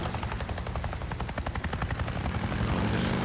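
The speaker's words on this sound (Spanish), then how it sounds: "¿Dónde se va a parar el helicóptero?" A helicopter in the video game Days Gone gives a steady rapid rotor thump, fairly faint and continuous, with no voices over it.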